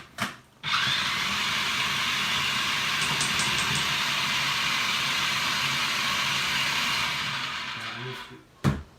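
A food processor blends oats into a steady, loud motor whir that starts abruptly, runs evenly for about seven and a half seconds, then cuts off, with a brief knock at the end.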